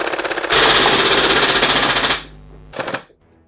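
A vintage Nerf Rapid Fire blaster emptying foam darts in a fast, loud burst of about one and a half seconds, a short quieter tail, then one more quick burst before it stops, with no talking.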